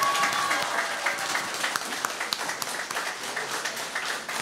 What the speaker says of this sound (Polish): teraz wielkie brawa dla mężów i żon tutaj tego zespołu